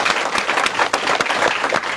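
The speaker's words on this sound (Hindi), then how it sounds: "तालियां बजा के हम उनको थैंक यू बोलते हैं" Audience clapping together to thank recovered patients at a naturopathy and Ayurveda health gathering, a dense, steady round of applause lasting throughout with no talk over it.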